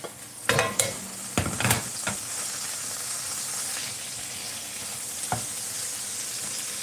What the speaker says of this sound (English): Yep, sizzle.